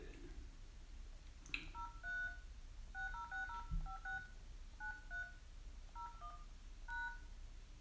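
Touch-tone keypad beeps dial a password on a phone line, a quick run of short paired tones in clusters, fairly faint over a steady hissing line noise.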